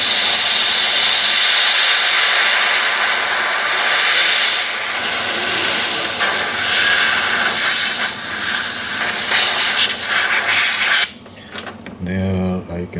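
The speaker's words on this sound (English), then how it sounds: "with the help of compressed air I will wash it out" Compressed air blasts dust out of a computer graphics card, a loud sustained hiss with slight wavering that lasts about eleven seconds, then stops, followed by brief low rumbling handling noise.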